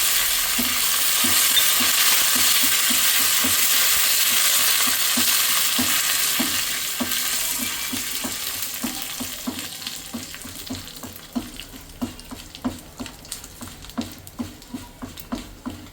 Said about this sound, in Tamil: கடுகு வெந்தயம் பொரிஞ்ச பிறகு ஒரு 3 காஞ்ச மிளகாய் உடச்சி வச்சுருக்கிறேன், கொஞ்சம் கருவேப்பிலை கழுகி வச்சுருக்கிறேன், அதுவும் போட்டு நல்லா ஃப்ரை பண்ணி இதில் போட்டுக்கலாம்